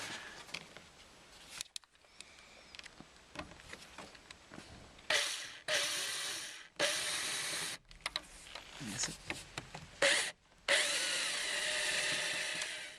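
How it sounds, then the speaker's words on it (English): Power drill pilot-drilling through aluminium and steel on the rear door step of a Land Rover Defender, heard as several loud bursts of whining and grinding separated by short pauses. "we're going to pilot drill because it's got to go through the aluminium and the steel"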